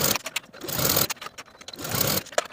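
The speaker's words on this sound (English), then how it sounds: "I'm going to sew it in place with a 3/4 inch seam allowance." Sewing machine stitching a waistline seam on a swimsuit cover-up dress, a close mechanical whir running in two short bursts with a brief pause between.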